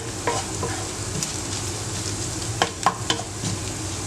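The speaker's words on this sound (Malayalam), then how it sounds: "ഇപ്പോൾ കുറേശ്ശെ ഫ്രൈ ആയി വരുന്നുണ്ട്. ഞാൻ സിമ്മിലേക്ക് മാറ്റിയിട്ടുണ്ട്." Dried prawns frying slowly in a pan over a low flame, with a continuous soft sizzle and several light scrapes and taps from stirring, close by and free of speech.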